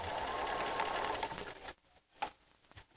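A Bernina sewing machine stitches a quilt in a fast, steady whir, then stops, followed by a few faint clicks and handling sounds.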